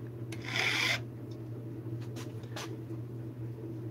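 A file scrapes across a chainsaw's raker depth gauges with one clear rasping stroke, followed by a couple of fainter, shorter scrapes over a steady low hum.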